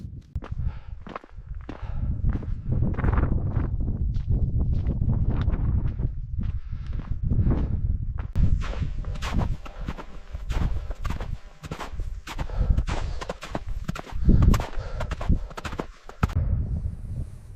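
Strong, bitterly cold wind on a solo Ben Nevis mountain hike roars and buffets close against the microphone in continuous gusts, with rustling bursts and no speech.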